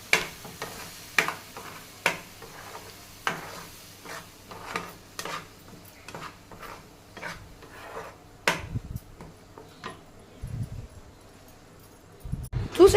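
A sister stirring jelly in a pot, with a steady series of light scraping taps and knocks at a loose rhythm, close by, with people talking now and then.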